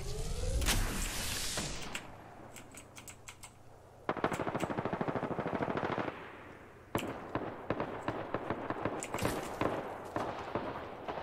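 Rapid bursts of gunfire in the game Apex Legends crackle in quick clusters, with short pauses between volleys and a loud explosive opening.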